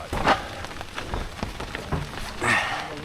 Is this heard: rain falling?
yes